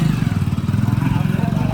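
A motorcycle engine idles and putters with a steady pulsing low throb as girls ride the bike in a village, the note holding fairly even and loud for under two seconds.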